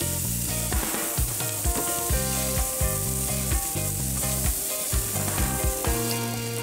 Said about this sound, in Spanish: Y se viene lo mejor: el sonido de la carne directamente a la parrilla.